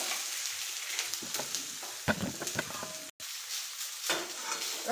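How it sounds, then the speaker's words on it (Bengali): Food sizzles and fries in a pan while a spoon stirs it, scraping and clinking against the metal. A short break falls partway through, and there is no talking. "এগুলো ভালো করে নেড়ে"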